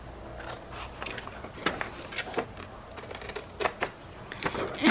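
Scissors snip through paper to shape a pocket for a postal journal craft, giving a run of close, crisp cuts in an irregular rhythm with quiet handling sounds between them.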